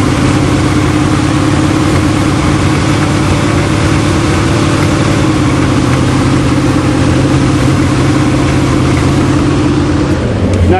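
A 1975 Chrysler New Yorker with a 400 engine idles loud and close just after its first start in years, a steady, rough low rumble with slightly raised revs that drops near the end.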